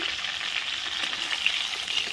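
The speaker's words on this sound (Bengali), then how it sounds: "দু হাতে তুলে দেখো মাছ ভাজা হয়ে গেছে এখন একই তেলে বেগুনগুলো দিয়ে দিলাম" Rohu fish fries in hot oil over a wood-fired stove, a dense steady crackling sizzle close up, continuous throughout and without talk.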